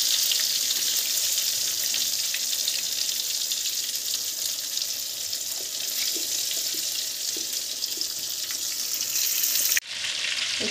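Bhetki fish fingers coated in egg and breadcrumbs fry in hot oil with a steady, dense sizzle and crackle, close and continuous, ending in a sudden cut.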